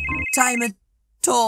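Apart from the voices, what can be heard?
phone ringing in Roblox Brookhaven video game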